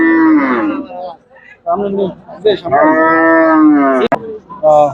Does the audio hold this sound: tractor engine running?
no